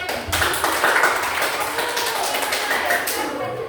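Schoolchildren in a classroom clap their hands together in a dense, loud burst of claps lasting a few seconds.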